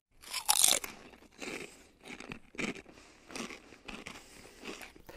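Crunching and crackling bursts, like battery acid eating through fabric, come in irregular close bites and tears, loudest near the start and continuing in smaller crackles.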